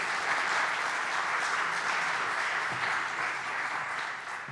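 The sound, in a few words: audience applause welcoming keynote speaker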